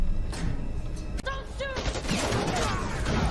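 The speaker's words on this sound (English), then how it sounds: "Why did he start shooting him?" Gunfire in a scene from the 2022 Marvel film Morbius, several sharp shots and a dense burst of firing over a loud, busy soundtrack.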